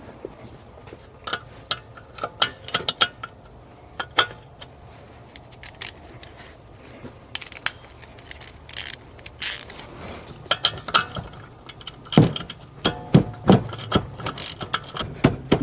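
Tools work on the rear brake caliper bolts of a Mercedes S550, giving scattered ratchet clicks, metallic clinks and rattles in irregular bursts, busier toward the end.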